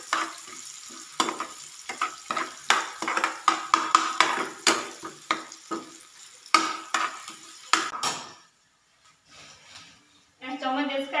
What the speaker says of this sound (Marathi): छान कांदा परतून घ्यायचा गुलाबीसर रंगावर